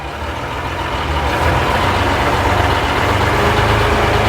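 A 1958 Leyland PD2 double-decker bus pulling in first gear, its heavy diesel engine rumbling and labouring loudly and steadily, swelling slightly as it strains.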